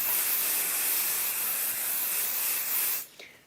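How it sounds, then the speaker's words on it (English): Spray adhesive hisses from a can onto fabric for backing a textile handbag, one long steady spray lasting about three seconds before cutting off, close and alone. "And I just spray it onto the bit it's going to be sprayed onto anyway."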